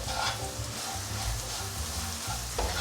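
Potato and carrot stir-fried with curry powder, rose salt, white pepper and a pinch of sugar, a steady close sizzle with rhythmic scraping and tossing of the pan throughout, no talking.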